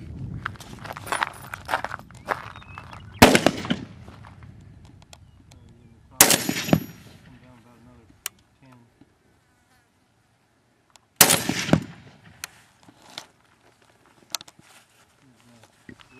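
A 1919A4 .30 caliber machine gun converted to semi-automatic fires a few single shots spaced seconds apart, each a loud sharp crack with a short echoing tail, outdoors with people talking in between.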